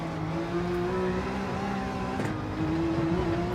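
A GR.3 race car engine in the Gran Turismo 7 video game, a steady loud drone that shifts pitch as it revs and accelerates, heard alone without talk.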